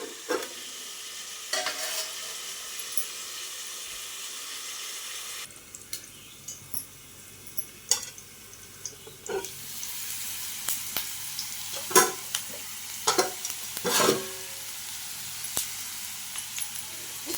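Vegetable curry frying in a pan after chili powder is added, with a soft continuous sizzle and repeated scraping stirs at irregular intervals, quiet and close.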